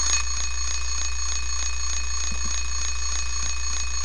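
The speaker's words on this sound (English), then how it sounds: "Oh, that's an alarm clock." An alarm clock rings in the video game Silent Hill 3, a loud, continuous rapid electronic bell-like pulsing that repeats evenly throughout with no voices.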